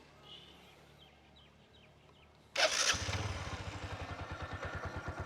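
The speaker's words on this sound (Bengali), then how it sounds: "আমি আপনাদেরকে ইঞ্জিনের সাউন্ডটা একটু শোনানোর চেষ্টা করি" A 2023 Bajaj CT100 self-start motorcycle in fresh condition starts with a sudden burst after chicken clucking nearby, then idles close up with a steady, rapid, pulsing single-cylinder throb.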